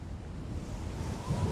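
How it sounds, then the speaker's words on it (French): Low, steady roar of surf with broadband wind noise buffeting the microphone throughout; no voices. "Elles sont grosses les vagues là, non?"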